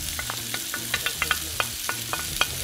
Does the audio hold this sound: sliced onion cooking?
yes